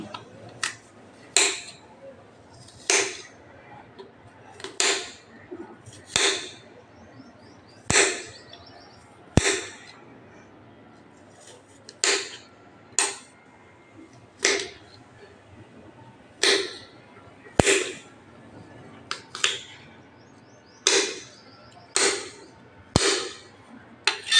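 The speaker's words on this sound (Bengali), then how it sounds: "কচুরলতিগুলো এবারে কেটে নিচ্ছি" Knife chopping taro stolons on a board, loud crisp regular strikes repeating roughly every second and a half throughout, with no talk.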